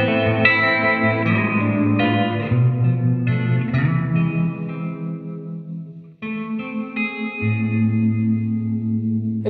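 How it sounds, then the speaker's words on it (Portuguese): An electric guitar plays chords through a pedal with spring-style reverb, tremolo and modulation, giving sustained, wavering and shimmering tones with a short break before the chords resume. "Ele tem um reverb estilo spring, ou seja, simulação de molas com o trêmulo junto."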